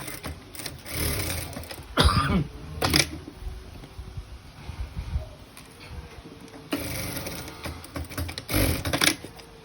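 A sewing machine stitches a side-slit hem in bursts of fast, close mechanical whirring and clatter, separated by quieter handling noises and a few soft thumps.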